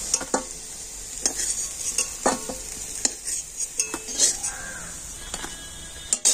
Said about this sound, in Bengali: আর এবার আমি হালকা জাল দিয়ে বড়াগুলোকে খুব ভালোভাবে ভেজে নেব।